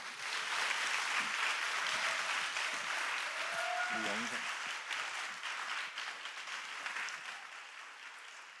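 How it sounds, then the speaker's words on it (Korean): Congregation applauding to welcome missionary Song Mun-gyu at a Sunday worship service, a full steady round of clapping that gradually tapers off, with a brief tonal sound and faint voices mixed in. "우리 선교사님 앞으로 모실 때 큰 박수로 환영하도록 하겠습니다"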